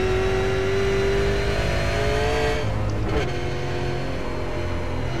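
A Holden V8 Supercar at Mount Panorama in a racing game, its engine droning steadily at high revs with a brief pitch shift midway, loud and continuous with no talk.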